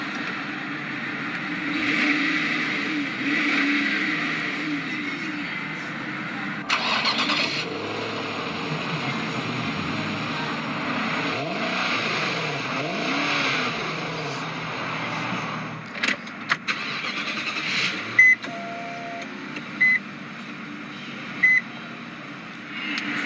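A 2008 Infiniti M45x starts by push button and settles into a steady idle, with a low engine drone that runs throughout, a brief start surge, and some chimes and clicks near the end.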